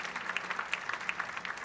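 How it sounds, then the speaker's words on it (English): Light applause at an award ceremony, a modest scatter of individual claps heard somewhat distantly and fairly quietly over a short moment. "Can we have a huge round of applause for the address"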